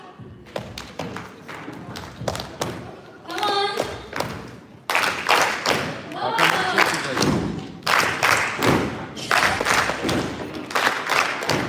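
A conference audience at an association's annual general assembly claps together in a steady, loud rhythm of repeated thumping claps, with a voice briefly urging them on.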